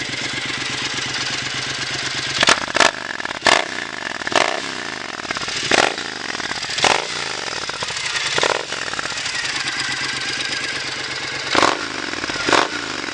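A 2014 Triumph Scrambler motorcycle engine running close by, a loud steady idle with repeated throttle blips that swell and fade.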